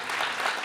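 A short, steady burst of audience clapping, moderately loud and evenly dense, with no voices over it.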